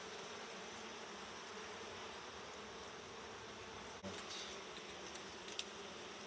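Honeybees buzz around a hive frame of brood during an October hive inspection, a continuous close drone of many bees, with a brief knock partway through.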